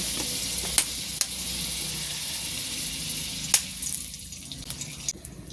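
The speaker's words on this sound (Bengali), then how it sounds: "কড়াইতে আবার অল্প একটু মাখন দিয়ে দিচ্ছি আর সাদা তেল দেব" Butter and white oil heat in a wok for an omelette, giving a soft continuous sizzle with a few sharp clinks and pops, fading somewhat toward the end.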